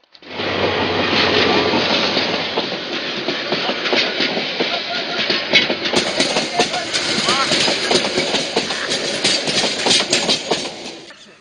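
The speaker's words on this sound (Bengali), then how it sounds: "এই ট্রেন যে চলে গেল" A passenger train rolls past at a Bangladeshi railway line, its continuous rumble and clickety-clack of wheels carrying on for several seconds while people talk nearby.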